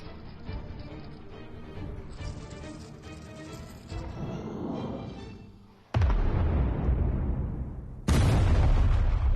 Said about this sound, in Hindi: जाओ सुसाइड स्केलेटन, उड़ा दो सबको।